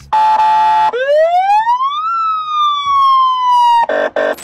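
A loud electronic siren: harsh buzzing blasts bracket a long wailing tone that climbs, then slowly falls, close and piercing.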